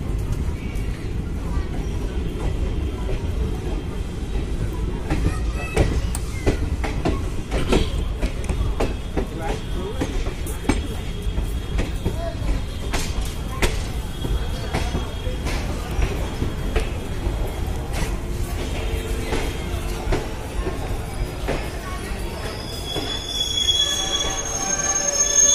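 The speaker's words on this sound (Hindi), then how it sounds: "मोतिहारी के स्टेशन पे ये रहा सामने में हमारी ट्रेन" The 15216 Express train runs on rails at Motihari station in India, with a steady loud rumble of wheels on track, scattered clicks and high metallic squeals, and the noise swelling slightly near the end.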